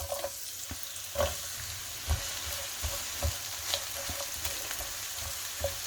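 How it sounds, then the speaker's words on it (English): Onions frying in hot vegetable oil in a wok for shepherd's pie: a soft, steady sizzle fills the background, broken by periodic scrapes and taps of a utensil moving them around, fairly quiet and close. "we're going to fry the onions for a few minutes before we add the carrots"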